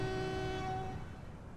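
Train in the Transport Fever video game, a steady held horn-like tone with rumbling low wheels and engine noise, fairly loud and close, fading slightly at the end, with no talk.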